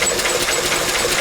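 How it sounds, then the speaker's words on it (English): A Lister D stationary engine warming up, producing a loud, steady, close-up mechanical chugging and rattling with no voices. "just while the engine's warming up for a few moments"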